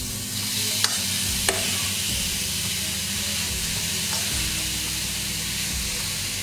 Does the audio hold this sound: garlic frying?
yes